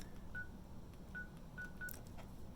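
A Polycom VVX 400 desk phone plays a quick series of short, clear DTMF dialing beeps, irregularly spaced and fairly faint against quiet room noise, with no voices.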